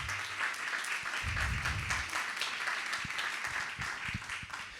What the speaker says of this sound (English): So how about joining me in a nice round of applause for those people?